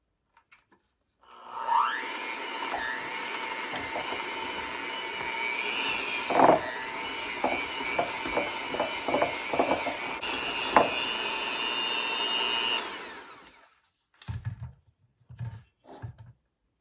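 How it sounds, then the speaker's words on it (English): An electric mixer or blender whirs steadily for about eleven seconds while blending pie filling ingredients with lemon juice in a bowl, with clunks and knocks against the bowl. A few soft bumps follow after the motor stops. "Just put it all in your bowl. And we're going to blend those together."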